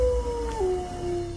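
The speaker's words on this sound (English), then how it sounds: "It makes very loud howling sounds." A single long, loud howl from a large gray wolf of the British Columbia subspecies holds a steady tone, then drops in pitch partway through and sustains to the end.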